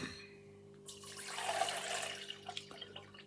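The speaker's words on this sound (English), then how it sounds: "going to use this here, distilled vinegar, the white version. Alright, so I just need to put some in." White distilled vinegar poured from a bottle into a container, a faint, steady splashing trickle that starts about a second in and continues over a low background hum.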